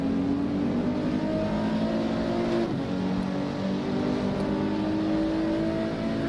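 A car engine in the Assetto Corsa racing game drones steadily at a constant, moderate pitch, with a brief dip midway, loud and close with no voices.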